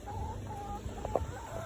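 Homestead chickens clucking softly in their coop, a few scattered low clucks over steady background hum, with one brief louder call near the end.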